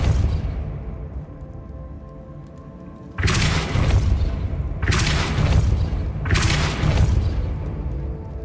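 Depulso spell cast in the video game Hogwarts Legacy, three loud booming blasts in quick succession, each a sharp thump with a whooshing tail, over a low ambient game backdrop.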